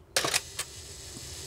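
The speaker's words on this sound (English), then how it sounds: "But you take this dark slide out" A dark slide is pulled from the film back of a Mamiya RB67 medium-format camera, giving a close burst of scraping, clicking mechanical noise, then a short click and another sharp click near the end.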